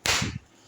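A small firecracker bursts close by with a single sharp, loud crack, followed by a brief low rumble that quickly fades into quiet.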